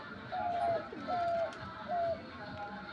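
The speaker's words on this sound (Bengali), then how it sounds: "শিকারি গুগু ডাক দেখেন কত সুন্দর গলা।" A shikari ghughu dove coos three times in a steady rhythm, each call a clear, close, mellow phrase over quiet background noise.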